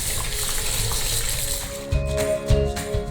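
Potatoes are rinsed in water to wash off soil, giving steady close splashing and swishing with a few louder sloshes near the end.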